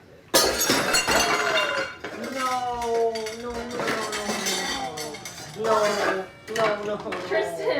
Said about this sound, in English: I broke Mom's bowl